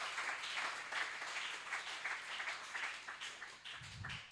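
A church congregation applauding for Jesus Christ during a French-language sermon, steady sustained clapping from many hands throughout.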